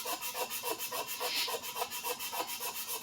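Sandpaper rubs by hand along the blade of a Minamoto sujihiki knife during restoration, quiet rhythmic back-and-forth strokes about three per second, close and alone.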